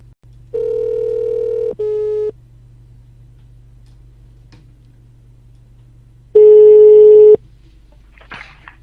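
Telephone line tones during a radio call-in show, two steady electronic beeps, a long one then a short one, a pause with faint hum, then another long tone before a brief click.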